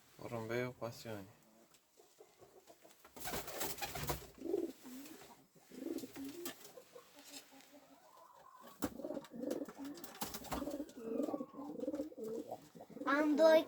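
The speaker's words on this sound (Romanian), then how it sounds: "Porumbeiul pasiunii." Pigeons cooing in a loft, with repeated soft throaty coos rising and falling at close range, along with a few sharper bursts of nearby noise and some voices in the background.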